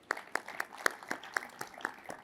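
A handful of people in an awards audience clap in a sparse, slightly uneven rhythm, about ten distinct claps over two seconds, fairly faint.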